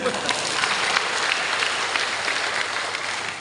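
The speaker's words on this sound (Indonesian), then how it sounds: "Tepuk tangan dulu." A church congregation breaks into steady, full applause during a sermon, a thick continuous patter of many hands clapping at an even, fairly loud level from start to finish.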